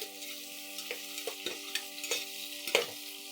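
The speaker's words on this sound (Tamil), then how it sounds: "கொஞ்சம் வதங்கட்டும் இப்போ வெங்காயம் வதங்கும் போதே" Onions and green chilies sizzling in a pan for mushroom biryani, a steady close fry with a few soft stirring scrapes and taps.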